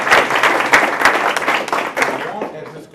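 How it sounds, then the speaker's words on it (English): A crowded club room keeps clapping for a visiting senator, steady close applause with distinct individual claps that thins and softens toward the end, a voice faintly audible underneath. "Let's give this gentleman a round of applause."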